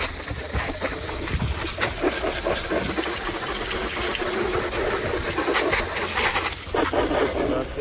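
Garden hose sprays water across the engine bay of a Mercedes-Benz W204 C180, a steady close hiss of spray with small splashing shifts throughout and no voices.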